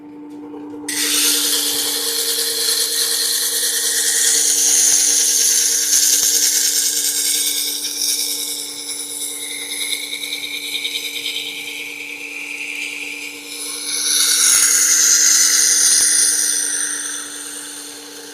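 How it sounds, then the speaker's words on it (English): A chisel being sharpened on a powered sharpening system, a steady motor hum under a loud continuous grinding rasp that swells and fades as the chisel is rotated against the wheel, no talking. "I'm rotating that chisel all the way around. Okay? I'm getting the wire edge on there."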